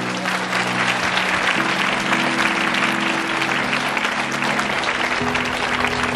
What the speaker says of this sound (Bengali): প্রভু জন্য জোরে করতালি দে।